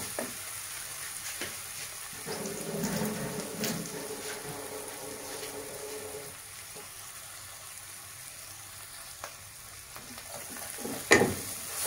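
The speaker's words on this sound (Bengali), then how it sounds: "ভালো করে পেঁয়াজ এবং টমেটো ভালো করে ভাজা হয়ে গেলে তারপরে আমরা চিকেনগুলো দিয়ে দেবো" Onion and tomato frying in a pan before chicken drumsticks go in, a low steady sizzle with louder bubbling bursts and occasional scraping stirs, ending in a sharp clatter.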